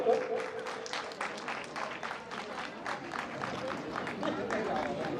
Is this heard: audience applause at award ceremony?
yes